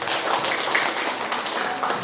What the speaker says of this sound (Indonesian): Tepuk tangan untuk Darajat 3.